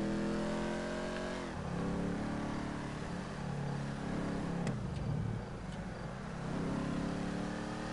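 A car is driven with its engine humming steadily and rising in pitch through several gear changes, clear and continuous, with no voices.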